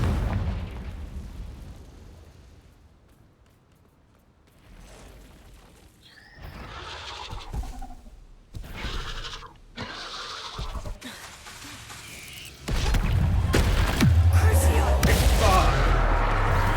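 Confringo blasting spell in the Hogwarts Legacy video game, with a quiet stretch giving way to bursts of magic effects and a heavy, booming explosion rumble that swells loud toward the end.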